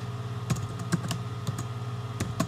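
Typing on a computer keyboard, a few scattered key clicks at an irregular, unhurried pace that sound close and moderately loud, with a low steady hum underneath and no talking.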